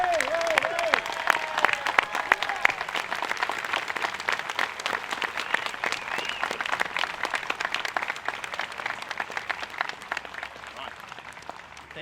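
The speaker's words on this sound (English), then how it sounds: "Please join me in one more round of applause." A crowd at a Veterans' Day ceremony in Falmouth applauds veterans with sustained, dense clapping that slowly fades over about twelve seconds, with faint voices underneath.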